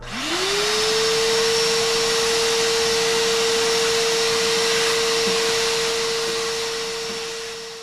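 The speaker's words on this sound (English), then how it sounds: "I'm definitely gonna vacuum this out and make sure we don't have so much smoke" A vacuum cleaner runs inside a home oven to clear it out, its motor spinning up to a loud, steady whine that holds for several seconds with a broad airy rush and no talk.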